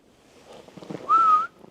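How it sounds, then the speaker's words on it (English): A single clear human-like whistle sounds outside at night near a parked van, a short steady tone heard fairly close after faint rustling and background noise. "That was a whistle, clear as day."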